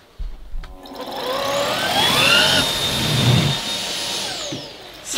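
A Miele Duoflex HX1 Total Care cordless vacuum cleaner runs across carpet with a high whining motor that rises in pitch, holds steady and then winds down over a few seconds, close and loud, with no voices.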